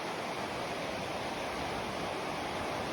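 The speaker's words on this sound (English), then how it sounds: "Wow, this is a legitimate river." The Housatonic River in Connecticut rushes steadily past, a dense, continuous roar of flowing water heard close and without pause, no voices over it.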